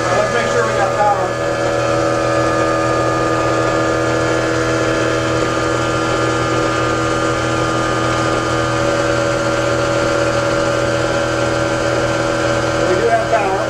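A 40kW generator runs steadily nearby with a constant engine-like drone and layered tonal hum, unbroken throughout, with no talk over it.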